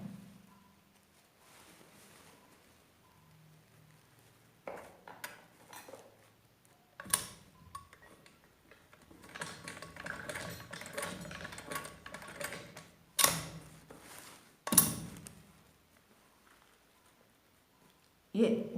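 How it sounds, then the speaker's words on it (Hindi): A sewing machine runs straight stitching on umbrella gown fabric in short, intermittent bursts of rapid mechanical clatter, separated by quiet pauses and handling noises, with a couple of sharp knocks near the end. "ऐसे और ऐसे सीधी सिलाई लगाएंगे"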